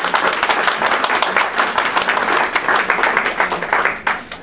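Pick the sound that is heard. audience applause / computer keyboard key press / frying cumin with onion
audience applause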